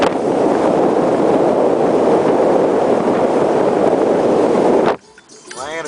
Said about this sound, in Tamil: பயங்கர காற்று அடிக்குது.